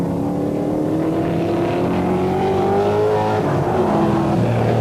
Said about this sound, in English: It's immaculate Aston Martin DBSB8 coming through clearways now.